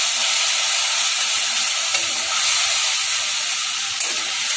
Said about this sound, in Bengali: সর্ষেটাকে একটুখানি ভেজে নিয়েছি।